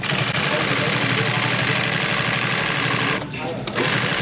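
An upholstery sewing machine stitches custom Ford car seat material in a fast, continuous mechanical rattle, loud and close, pausing briefly near the end.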